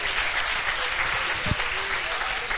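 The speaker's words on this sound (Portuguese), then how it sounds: "Vamos aplaudir o nome do Senhor." Church congregation applauding together, a dense continuous wash of clapping at close range, with one brief thud partway through.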